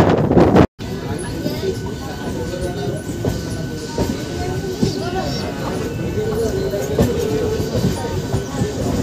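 A Howrah–Digha local train runs along a single-line track, its steady rumble and rolling wheel noise continuing throughout with faint rhythmic clatter and a brief dropout near the start.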